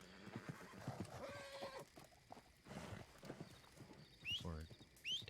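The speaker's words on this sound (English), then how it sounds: "that's definitely your horse coming" A horse in Hogwarts Legacy whinnies loudly and its hooves clip-clop as it draws near, while people talk over the game sounds.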